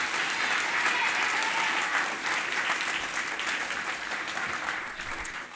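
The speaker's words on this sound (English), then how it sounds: "Give them a round of applause." Sustained applause from an audience honoring election candidates at an inauguration ceremony, dense steady clapping filling the room for several seconds and easing slightly toward the end.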